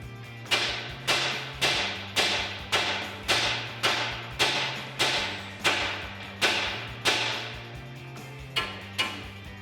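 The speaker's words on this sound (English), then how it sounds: "we're gonna have to hit this collar here with a hammer in order to break the taper on this ball joint loose" A hammer strikes a steel ball joint collar on a 2009-2013 Ford F150's suspension repeatedly in a steady rhythm, about fifteen sharp close blows, each ringing briefly before the next.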